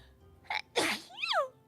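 A single sneeze, close and fairly loud, with a short intake of breath before the burst and a brief trailing voiced sound after it, otherwise quiet.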